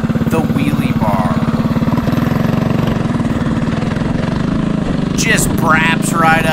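Small engine on a homemade mini trike revving hard as the rider pulls wheelies, a buzzy, pulsing drone close by that rises and falls, with a voice talking over it.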